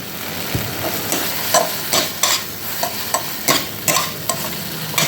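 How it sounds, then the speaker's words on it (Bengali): Spice paste frying in mustard oil with a steady sizzle, broken by repeated scraping strokes of a spoon stirring every half second or so, close up and without talk. "ঝালের জন্য মশলাটাকে এইরকমভাবে ভেজে নিচ্ছি"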